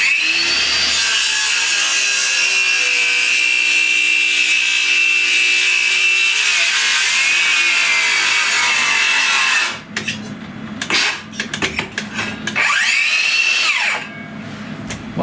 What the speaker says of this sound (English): So let's go ahead and cut this board and see how it performs.